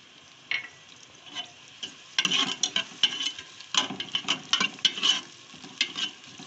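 Onions sauté in oil in a pressure cooker, with soft sizzling and irregular scraping, stirring clatter of a spoon against the pot, close and moderately loud, no talking.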